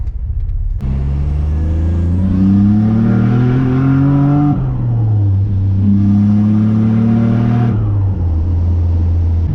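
Turbocharged Nissan Navara with a VG30 engine pulls hard under boost in third gear, a loud, steady engine drone rising in pitch through two long surges, with a brief dip between them.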